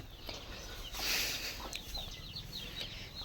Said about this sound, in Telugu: ఇది ఏమో అమ్మ వాళ్ళది కోడి ఇది తొమ్మిది పిల్లలు చేసిందండి